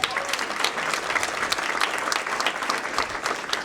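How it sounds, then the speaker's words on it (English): Audience applause fills the room after a launch presentation, a steady dense patter of many hands clapping at even loudness throughout, with no voices rising above it. "Let's give a round of applause."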